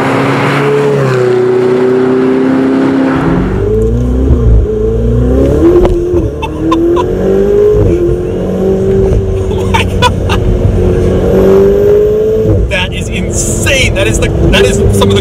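A Ferrari 488 Spider's turbocharged engine revs hard under acceleration, its rising tone climbing through gear changes close up inside the cabin, with an excited voice talking over the engine.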